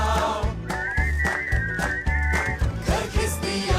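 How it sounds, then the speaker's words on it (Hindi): Melodic whistling carries a sustained tune over a rhythmic musical backing with a steady beat. "आओ सीटी बजाओ"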